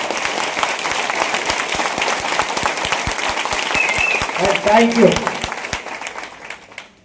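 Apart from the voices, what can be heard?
audience clapping loudly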